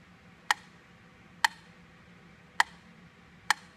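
A metronome ticks at 60 beats per minute, four crisp, evenly spaced clicks sounding alone over a quiet background.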